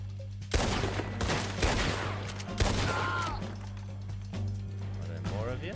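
Gunshots ring out in Red Dead Redemption 2, a few sharp reports mixed into a busy scene with voices talking over steady background noise.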